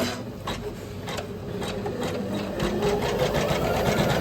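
An Usha sewing machine runs steadily for several seconds, a close, continuous mechanical whir with a rapid rhythmic needle chatter that holds an even level throughout.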